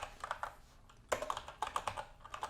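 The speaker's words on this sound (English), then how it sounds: "Let's start by just typing out some paragraphs" Fingers type on a computer keyboard in quick, uneven bursts of clicking keystrokes, close and fairly quiet, with a short pause before a brisker run of taps.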